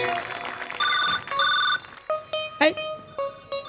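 A telephone ringing in a Marathi stage comedy sketch: an electronic ringtone plays in short repeated tonal bursts, near and clear, with a voice briefly cutting in partway through.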